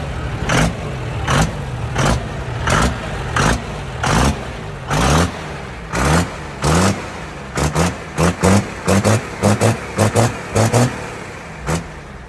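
A lifted truck with a compound turbo diesel setup at a Texas truck show, loud close bursts of revving that rise and cut off in repeated blips, quickening toward the end.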